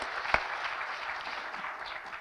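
Audience applause at a university integration forum, a brief moderate patter of clapping from a seated crowd with one sharper clap standing out early.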